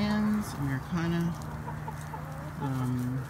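Hens in a winter pen, a mixed flock of Marans, Ameraucanas, Orpingtons and a barred Cochin, give repeated close, moderately loud clucks and short calls over a steady farmyard background.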